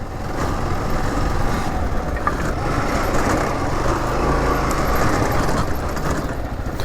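A Kawasaki KLR650 motorcycle rides off-road on rough trail terrain in Northern Ontario, its engine droning steadily and loud for the whole stretch, mixed with rumble and wind noise.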